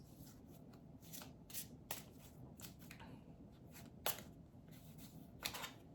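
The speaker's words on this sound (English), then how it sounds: "I'll just shuffle again because I pulled 2 cards." Tarot cards are shuffled in several quick riffling bursts, crisp and close, separated by short pauses of quiet handling.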